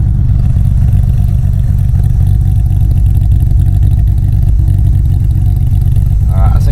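A Holden Monaro with a V6 engine revs hard at close range, a loud, dense, gruff drone held steady for several seconds with a brief rattling clatter near the end.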